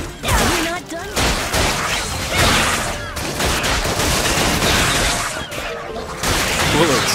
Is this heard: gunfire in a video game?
yes